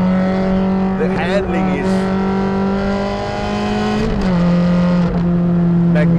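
A road-going Stradale race car engine roars loudly and steadily up close, its pitch holding, then shifting down and up as gears change. Someone talks over it.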